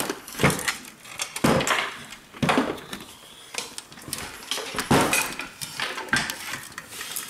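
A computer case under modification being handled and flipped upside down, giving several close knocks, clunks and rattling thuds as panels and parts shift, with no talk.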